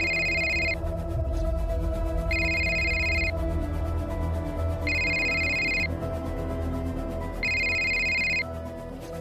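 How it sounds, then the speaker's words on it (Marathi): A telephone rings late at night in a home, four evenly spaced electronic ring bursts sounding clearly over a low, steady room hum. "एवढ्या रात्री कोणाचा फोन असेल?"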